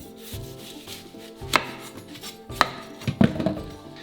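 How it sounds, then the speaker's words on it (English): Knife slicing the top and tail off a watermelon on a board, with a few sharp cutting thuds and crunches standing out over quiet handling noise, close up and without talk. "So first cut off the top and the tail"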